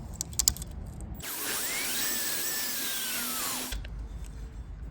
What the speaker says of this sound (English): I use this little attachment for a drill